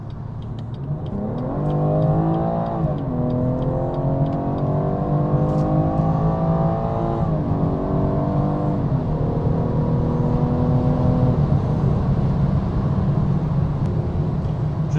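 BMW 440i xDrive coupé accelerating on the Autobahn, its engine rising in pitch through steady pulls with gear changes, a loud continuous drone over road and wind noise.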